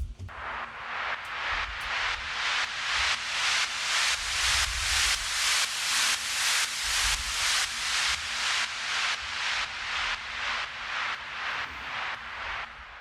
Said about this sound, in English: it's pushed up on oscillator 1 with just the noise, and I've got the filter envelope slowly opening up and slowly closing